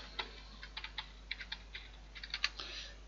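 Quiet, close keystrokes on a computer keyboard come in short irregular bursts while a network router is configured, soft clicks over a faint steady hum with no talking.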